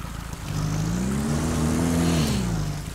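A truck engine in all-wheel drive revs and strains in the Spintires off-road game, a steady loud drone that swells in pitch and holds for a few seconds without any talk.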